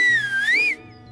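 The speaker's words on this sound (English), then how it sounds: "Nobody's stopping for those whistles." A single loud whistle tone rises and falls in pitch for under a second, close by, then cuts off, leaving quiet.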